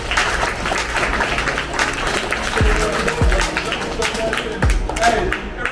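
An audience at a GPPD sports camp applauds for Chaz Jackson, a sustained patter of many hands clapping, with a few louder individual claps and voices mixed in.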